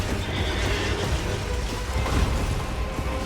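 A horse neighs in the video game Elden Ring, one loud whinny over a dense rumble of battle noise, close and continuous, with no voices.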